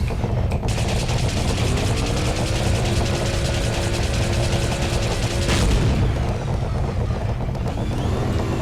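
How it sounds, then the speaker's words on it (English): A target blows up in a vehicle-combat video game in development, with a loud, dense, continuous roar of engine and gunfire noise that swells into a boom midway, over droning tones. "Alright, blow this one up now."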